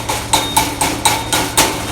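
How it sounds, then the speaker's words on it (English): A hammer chips slag off a fresh arc weld bead in a series of about six sharp metallic taps at an even, quick rhythm, close and loud over a low steady hum. "Now we'll take our hammer,"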